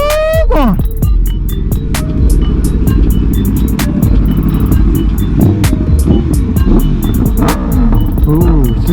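A Yamaha R6 sport motorcycle fitted with an aftermarket exhaust revs up and settles repeatedly, loud and close, its engine pitch rising and falling in sweeps, with people talking over it.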